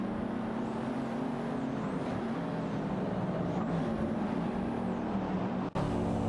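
Engines of AI-driven race cars in a racing video game, including a Lexus LC500 and a Totomeso Pantra GTS 72, drone steadily and loudly, with pitch sweeps rising and falling as cars shift and jostle for position.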